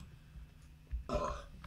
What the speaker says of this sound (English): He was burping his face.